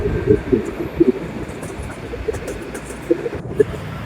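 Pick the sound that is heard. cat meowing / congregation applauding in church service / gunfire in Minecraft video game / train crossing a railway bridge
train crossing a railway bridge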